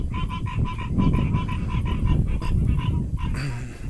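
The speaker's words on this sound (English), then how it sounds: "Boy, them frogs are happy." A dense chorus of frogs croaks continuously outdoors at an irrigation pivot site on a farm, rapid pulsing calls layered and loud throughout with no talking.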